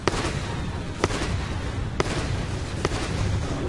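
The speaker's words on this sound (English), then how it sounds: "Love that pop sound. The gyrocopter." Flak cannon pops from the Gyrocopter hero in Dota 2, a few sharp bursts spaced about a second apart over dense, continuous game and crowd noise.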